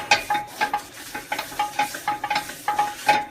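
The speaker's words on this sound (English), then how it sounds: "I'm going to wipe it all off" A cloth or paper towel wipes oil across a Finex cast iron skillet in repeated quick strokes, each one a close, soft rubbing scrape with brief pauses between, heard alone without talk.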